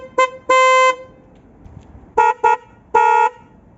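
Nissan Qashqai J11 car horn compared before and after an upgrade: two short honks from the old horn, then after a pause three blasts from the new horn, loud, close and bright with no talking.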